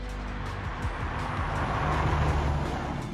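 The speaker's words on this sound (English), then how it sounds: "the drone from the exhaust is now gone" A Ford Fiesta ST engine drones steadily with low exhaust rumble through a rear silencer and road noise as the car drives along, continuous and fairly loud throughout.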